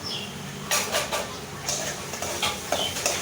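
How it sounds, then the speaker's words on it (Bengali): Prawn malai curry masala stirred in a pan: a few light scraping and clinking strokes of a utensil against the pan, moderately close, over a low background hum. "এটাকে এখন নাড়তে থাকবো ভালো করে"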